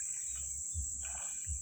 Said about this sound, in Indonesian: ada jangkrik